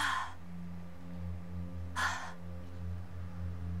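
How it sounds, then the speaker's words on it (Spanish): Two short sharp breaths, an inhale or gasp at the start and another about two seconds later, from a character in the Until Dawn video game, heard close over a steady low hum. "Que se escucha hasta la respiración"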